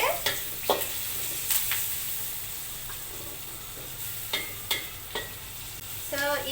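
Curry leaves and onion fry in hot oil in a pan with a steady, moderate sizzle, broken by repeated sharp clinks of a spatula stirring against the pan.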